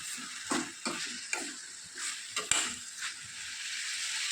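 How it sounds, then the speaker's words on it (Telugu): Ridge gourd pieces fry in a little oil in a pan, a soft hiss broken by several quick scraping stirs of a spatula close by, with no talking. "ఇప్పుడు ప్యాన్ తీసుకొని కొద్దిగా ఆయిల్ వేసి కట్ చేసుకున్నటువంటి ఈ బీరకాయ ముక్కల్ని వేసుకోవాలి."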